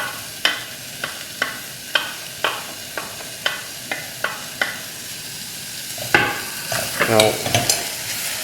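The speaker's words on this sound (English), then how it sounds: "We're going to toast the spices, just like this." Turmeric, coriander and chili powder toasting dry in a pan for a Kerala prawn and green mango curry, with a steady run of short scraping stirs over a soft sizzle, close and clear, ending in busier clatter.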